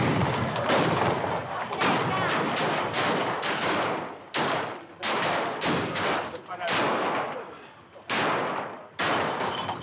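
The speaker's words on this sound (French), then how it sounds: "Il est annoncé par ces centaines de coups de feu tirés en l'air" Dense volleys of gunshots fired into the air at the Ardia horse race in Sedilo, Sardinia, loud and overlapping in rapid bursts with short gaps.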